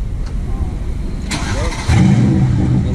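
A Mercedes-Benz GTS V8 sports car with 510 hp: its exhaust barks up in a short burst, then settles into a louder, deep, rumbling idle near the tailpipe, with brief voice at the start.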